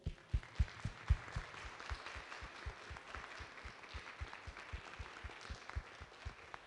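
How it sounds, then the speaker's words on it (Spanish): A small audience at a gender equity in the workplace debate claps, faint and distant, with scattered, uneven hand claps under a steady hiss. "les pido un fuerte aplauso para ellos"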